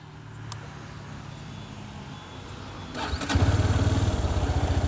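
A motorcycle on a dark road at night, heard up close as a brief crank catches and the engine fires, then settles into a loud, steady, pulsing idle.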